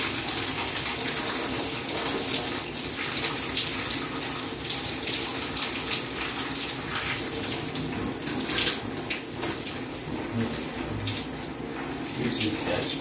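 Shower water running steadily in a bathroom, a continuous broadband hiss with small splashing fluctuations, close and unbroken throughout.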